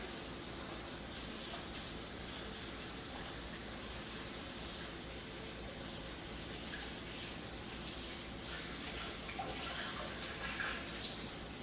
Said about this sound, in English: I know I'm running the water a lot